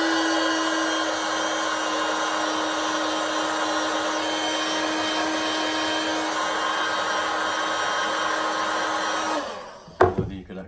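A heat gun shrinking a sleeve during a narrowboat fit-out blows a steady, loud hiss with a constant motor whine for several seconds, then switches off and is set down with a clunk.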